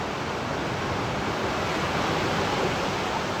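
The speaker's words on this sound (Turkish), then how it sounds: "Denize bakın arkadaşlar. Muhteşem bir dalga." Sea waves surge along the shore at Kadınlar Denizi as a constant, dense, broadband wash, close and fairly loud, with no voices over it.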